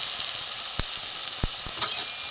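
Eggplant slices frying in hot oil with salt and turmeric, a steady close sizzle broken by a few sharp spatters and pops.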